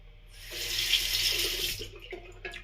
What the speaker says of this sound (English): We'll rinse once more.